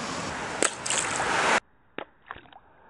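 A Bluetooth speaker dropped into pond water during a durability test: a loud, broadband rushing splash that cuts off abruptly, followed by a few small, sharp sloshes and drips.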